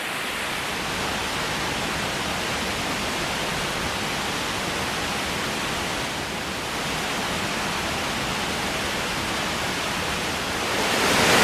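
A waterfall roars as a dense, unbroken wash of rushing water, loud and steady throughout with no voices, swelling slightly at the very end.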